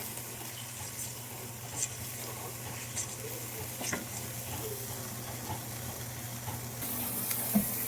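Teriyaki pork sauce with soy sauce being stirred in a sizzling pan: a soft, steady sizzle with occasional light scraping, fairly quiet, no voices.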